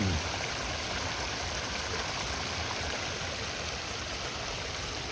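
Steady rushing and splashing of water pouring over a pondless waterfall built from a converted old pond, a dense continuous flow heard close up with no talking.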